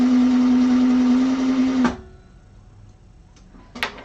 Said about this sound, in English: I got my foot on the drive button here while I fill up that bobbin